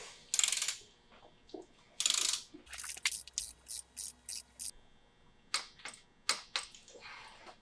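A torque wrench ratchets in bursts of quick, crisp clicks while a top cap on an XFUSION RCP shock is tightened to 200 inch-pounds, heard close up with short pauses between strokes and a few softer handling sounds.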